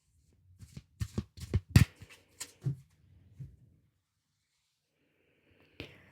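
Tarot cards are shuffled and flicked in a quiet room, giving a quick run of soft, crisp riffles and taps for a couple of seconds, then near silence broken by one last card snap.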